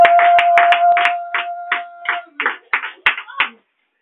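Congregation in a church clapping to acclaim the Lord, a run of quick rhythmic handclaps with voices and a sustained tone underneath, then a few louder separate claps before stopping.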